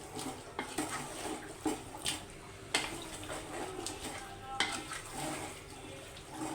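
Curry with added garlic paste cooks in a pan, giving a soft, quiet sizzle broken by occasional light scrapes and clinks of stirring.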